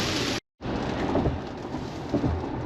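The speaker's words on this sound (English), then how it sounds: "it was raining so hard I could hardly see" Heavy rain pours in a dense, steady hiss with low rumbling underneath, heard during a Tesla Model Y road trip, briefly cut by a moment of silence early on.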